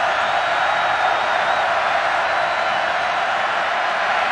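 Home crowd noise fills the stadium at a 2016 Miami at Georgia Tech college football game, a steady, loud, distant roar that holds level throughout.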